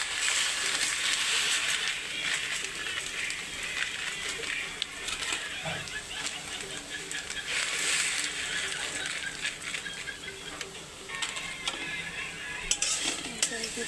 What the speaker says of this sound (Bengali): তেল গরম হয়ে উঠেছে, সাদা তেল। এইভাবে সিমাইগুলো আমি ভেজে নেব।